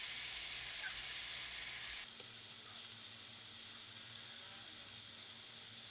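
Chili chicken sizzles steadily in a pan over medium-high heat after being flipped skin side, a constant close hiss of frying with a brief clatter partway through and no talking.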